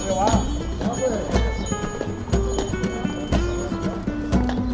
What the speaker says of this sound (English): you can take a horse and carriage ride